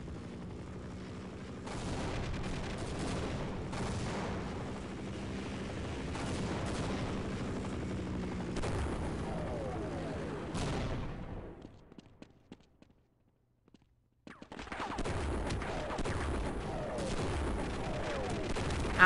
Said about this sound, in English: Oh, God, the helicopter.